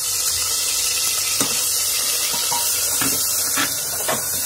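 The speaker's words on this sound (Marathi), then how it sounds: "तेल आपलं छान तापलं होतं तर मी यात खोबऱ्याचं वाटण घालतेय" Coconut paste dropped into hot oil for a Solapur-style non-veg curry gives a steady broadband sizzle and hiss throughout, with a few sharper crackles and pops over the constant frying noise.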